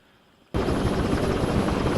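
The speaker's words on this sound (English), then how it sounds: "helicopter sound will come in again" Helicopter sound effect cutting in abruptly after near silence, a loud, steady rotor roar with dense broadband chop that holds continuously to the end.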